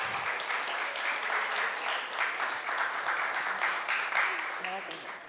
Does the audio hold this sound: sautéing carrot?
no